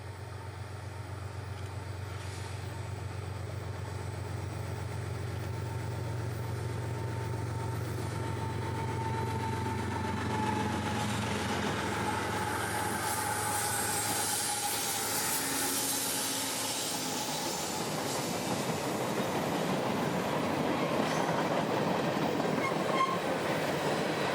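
A CSX freight train rolls past at a railroad junction in Central Florida in the evening, with a low engine rumble giving way to steady clattering wheels and wagons, growing louder and nearer as it passes, with no talk.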